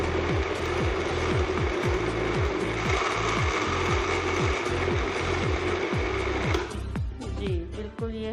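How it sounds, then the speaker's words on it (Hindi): A kitchen mixer grinder chops green chilies for sarson ka saag, a loud whirring motor with a rapid rattling, clicking rhythm that stops near the end, leaving brief clatter. "अभी इसमें जाएंगी हरी मिर्चें और मैं इसको करती हूँ ग्राइंड"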